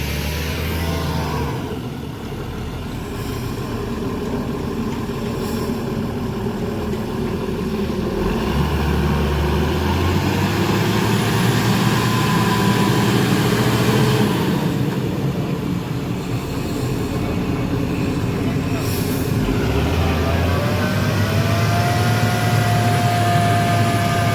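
A tractor strains to tow a borewell machine stuck in mud, its wheels slipping. The heavy engine drone is loud and continuous, surging and falling in pitch as it labours, with no voices.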